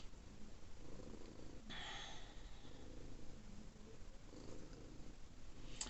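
A cat purrs close by in a steady, continuous low rumble with soft breathy texture, lasting throughout alone without talk.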